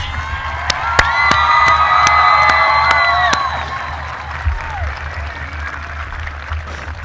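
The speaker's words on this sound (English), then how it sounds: "Let's give a huge round of applause for our families, friends, alumni, and of course, the class of" A crowd at a high school commencement ceremony cheers, whoops and applauds the graduating class. Sharp claps and shouted voices rise loud, then fade into scattered murmurs.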